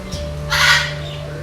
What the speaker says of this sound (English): And we got a parrot over here.